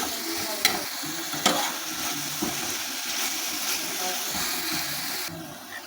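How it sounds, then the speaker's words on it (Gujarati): Tomatoes with salt sizzle and fry in a pan for a spring onion and moong dal curry, a spoon scraping and stirring through them with a few sharp clacks against the pan. "મિક્સ કરી લઈએ અને હવે ટામેટાને ચડવા દઈએ।"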